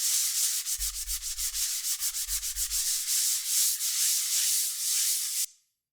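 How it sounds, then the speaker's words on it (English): Rhythmic scraping of sandpaper rubbed by hand over dried drywall compound, quick back-and-forth strokes close up, continuing steadily before stopping abruptly. "So just sand these down until they go into nothing."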